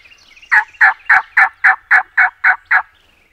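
A fired-up wild turkey gobbler gobbles close by during a spring hunt, a loud rapid string of about nine sharp warbling notes, clear and alone against a quiet background.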